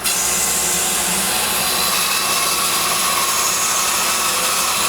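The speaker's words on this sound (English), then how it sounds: "I'm gonna turn the bandsaw on and just feed it in slowly" A bandsaw slowly cuts through a large wood blank for a turned platter, giving a continuous, loud, steady whirring hum with no pauses and no voices.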